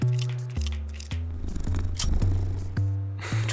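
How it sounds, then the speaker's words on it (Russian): A cat purrs in the video game Hot Tin Roof: The Cat That Wore A Fedora. It is a loud, close, stylized purr made of stepped low hums, with clicky game effects layered over it. "Почему он каждый раз мурлыкает, когда я перезаряжаюсь?"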